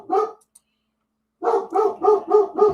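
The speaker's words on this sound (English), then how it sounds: "My dog wants to talk to you." A dog barks at home, one short bark followed by a pause and then a quick run of four or five close, loud barks in a steady rhythm.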